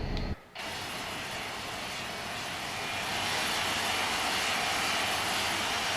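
Single engine of a Boeing T-45C Goshawk jet trainer in the FSX flight simulator spools up after a brief dip, then roars as a steady, loud, broadband whine with a high tonal line, continuous and unbroken with no talk.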